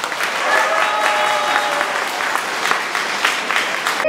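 Loud, sustained audience applause at a concert welcoming a veteran Polish singer on stage, dense clapping from a large crowd with a faint voice or tone briefly heard beneath it.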